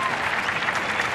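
A brief, steady burst of dense audience applause rises from the crowd at a Canarian murga performance, the Los Chacho Tú 2018 final.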